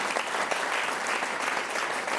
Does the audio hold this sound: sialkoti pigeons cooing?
no